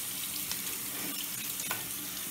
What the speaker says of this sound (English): just run up some water and add a little soap. I'm just going to scrub it.